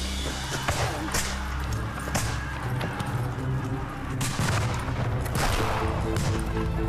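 Rebel musket fire from cover of trees and walls on a retreating column, a dense crackle of overlapping shots and booms under a steady rumbling background, loud and sustained.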